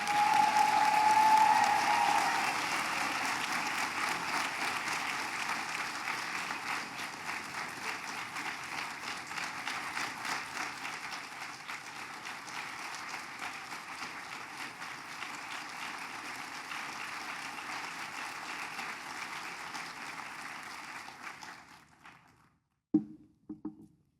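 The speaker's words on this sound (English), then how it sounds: "join me again in a round of applause for Vicki Nichols" Audience applause at a nursing school investiture ceremony for a Founders Medal honoree, a sustained round of clapping from a large crowd that starts strong and gradually thins before ending, followed by a few isolated taps.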